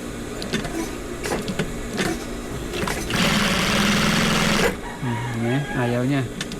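A sewing machine with its stitch timing knocked out of adjustment runs in a steady mechanical whir for a couple of seconds, set among clicks and handling noises, followed by a voice talking over a faint background hum.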